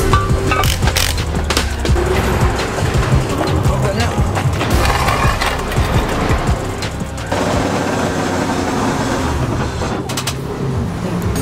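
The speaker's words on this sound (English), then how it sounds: "Gearbox is not broken, but there's some rattle in it that we don't have time to diagnose right now." Gear rattle from the gearbox of a 1000hp 2JZ-engined Toyota Supra with a missing oil pump, a loud continuous clatter and whine under engine and road noise, with a voice talking over it.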